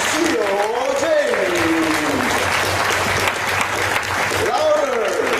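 An audience gives a round of applause to welcome a speaker onto a stage, dense continuous clapping throughout, with a host's voice talking over it.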